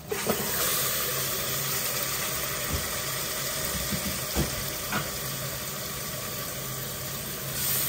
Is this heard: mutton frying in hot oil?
yes